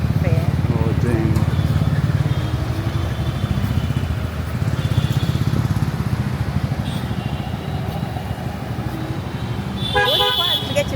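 Rickshaw ride through night traffic in Dhaka: a constant rumble of engines and road noise with repeated car and motorbike horns honking nearby, and voices talking over the din.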